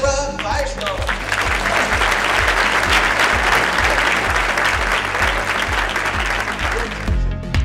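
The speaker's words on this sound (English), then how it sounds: "Help me give a warm round of applause to our friend Ezra Weishaupt." Loud audience applause for Ezra Weishaupt at a business conference, sustained dense clapping from a large crowd with a few voices and music-like tones underneath, fading at the end.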